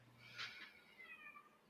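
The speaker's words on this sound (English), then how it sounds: "this cat's screaming at me" A house cat lets out a loud, drawn-out meow, one yowling call with a rising and falling pitch, close to the listener and heard on its own.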